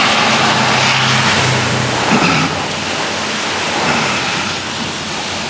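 A vehicle rumbles past through heavy rain, its engine and tire hiss fading under the constant loud roar of the downpour.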